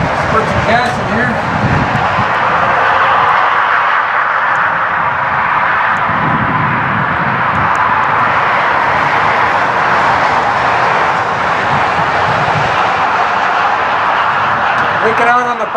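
A junkyard 1978 Mercury Marquis engine runs for the first time in 30 years, a loud, steady idle rumble that carries on continuously while people talk over it.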